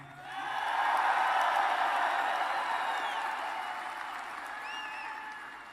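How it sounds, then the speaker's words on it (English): Crowd applause and scattered cheers at a Trump rally in Toledo, Ohio, swelling quickly into a broad roar of clapping that slowly fades, with a few whoops near the end. "So let's take a little applause, right?"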